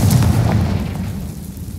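A Confringo fire spell explodes in the Hogwarts Legacy video game, a loud close boom with low rumble that decays over under two seconds.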